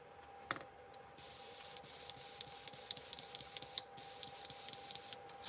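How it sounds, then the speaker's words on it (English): Short bursts of aerosol spray paint hiss onto a fishing lure through a stencil, repeated in quick pulses over a steady background hum, close and fairly loud. "Spraying a little bit. We'll try to get the rest of this color on there."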